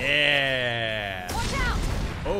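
A blast goes off in the video game Mass Effect 2, a sudden broadband burst that cuts off a sustained tonal drone and leaves a rumbling, crackling wash with brief chirping effects afterward.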